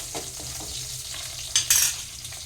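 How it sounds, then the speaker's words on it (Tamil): Garlic and shallots fry in oil in a pan while a utensil stirs them, giving a steady low sizzle with scraping clinks and a brighter metallic clatter near the end. No one speaks. "பூண்டு, சின்ன வெங்காயம், இது எப்படி கிண்டி விடணும்."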